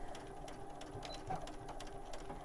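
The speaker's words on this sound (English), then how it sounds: "I do like to back stitch at the end too" A sewing machine back stitching at the end of a quilt seam for a Dresden Plate block, a quiet, steady rapid clatter of the needle running continuously and close by, with no talk.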